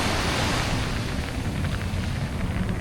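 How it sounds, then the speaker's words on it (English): Fireworks exploding over a beach in Busan, heard as a continuous loud roar of overlapping booms and crackle blended with surf and wind, with no clear gaps between bursts. "They're having a war with the fireworks."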